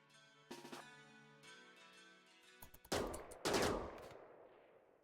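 Gunfire in a Rimworld raid, with single shots at first and then heavier, louder bursts of rapid fire and booming blasts that trail off.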